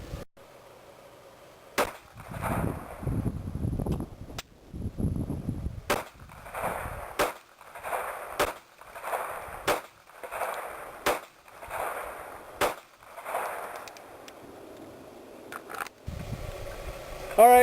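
Rapid fire from a 1911-style .22 Long Rifle pistol during an 18-round magazine dump: a string of sharp, evenly spaced cracks, some quick and some a second apart, with someone talking in between the early shots.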